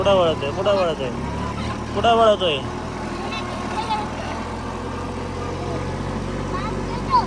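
A tractor engine runs steadily and close by as the tractor is driven on a farm hauling maize fodder for cattle, a constant low rumble that continues under people talking.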